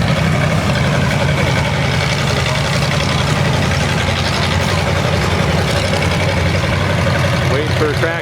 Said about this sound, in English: Got us a John Deere 730 LPG with a John Deere 45.